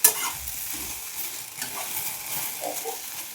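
Okra (ladies finger) stir-frying in a pan, a steady soft sizzle with light stirring scrapes throughout, close and moderately loud with no voices.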